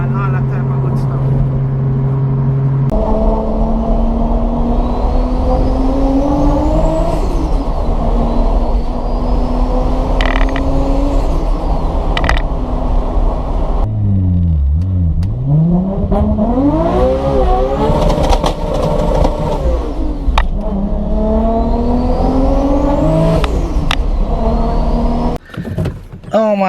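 A roughly 1200 whp Toyota Supra launches and revs hard, its engine note sweeping up through repeated gear pulls, loud and close with a brief tire squeal, while voices talk over it throughout.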